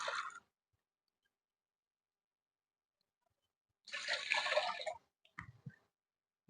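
Water poured from a bowl into a cooking pot for rice pilau, two short splashing pours a few seconds apart, the second longer, followed by small clinks, with silence in between.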